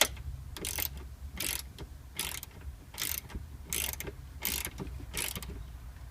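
A wrench ratchets clockwise to tighten a nutsert for a Eurosport rear brace, giving seven evenly spaced bursts of close, crisp clicking over a low background hum.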